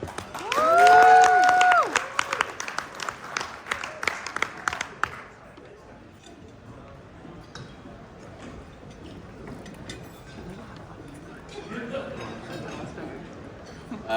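A conference audience applauds and cheers to welcome the Homhero crew and Pete Smith on stage, loud clapping with whoops for about five seconds, then fading to scattered claps and murmuring chatter in a hall.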